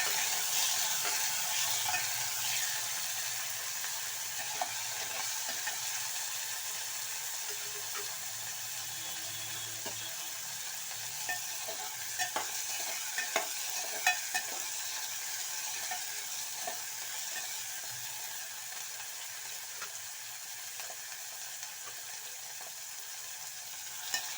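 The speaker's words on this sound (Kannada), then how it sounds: "ಇವಾಗ ಬೆಳ್ಳುಳ್ಳಿ ಶುಂಠಿ ಪೇಸ್ಟು ಟೊಮೊಟೊ ಹಾಕಿ ಒಂದ್ಸಲ ಫ್ರೈ ಮಾಡಿ" Onion, garlic-ginger paste and tomato frying in a pan, a soft, continuous sizzle with scattered clicks and scrapes of stirring throughout, moderately close and without talk.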